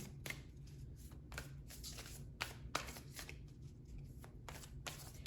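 Tarot cards shuffled close up and quiet, a steady run of soft riffling flicks and taps repeating every half second or so, with no talking.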